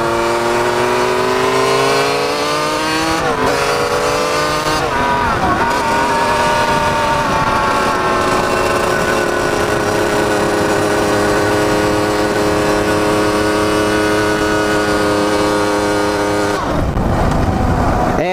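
A motorcycle engine revving and droning loudly up close, its pitch rising and falling through gear changes, with a sharp disturbance near the end before it breaks down.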